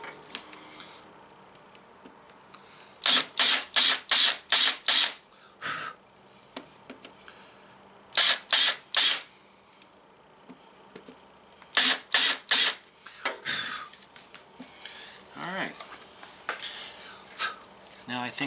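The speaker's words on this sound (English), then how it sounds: "we're just going to slightly countersink those just a little bit." Countersinking fastener holes in a Filon panel on a teardrop trailer build: a power tool bites in three clusters of four or five short, sharp whirring bursts, with quiet handling noises between.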